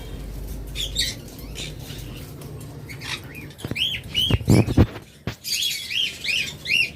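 Caged lovebirds and cockatiels in a bird shop chirp in quick, bright bursts, with clusters of sharp tweets and squawks, several close by and overlapping, plus some rustling and flapping.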